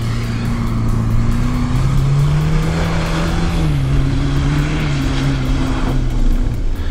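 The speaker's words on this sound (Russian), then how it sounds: "когда едет человек, двигатель орет, а колеса крутятся медленно" A loud vehicle engine roars steadily at high revs on a snowy slope, its pitch rising and falling slightly, close by and continuous with no voices.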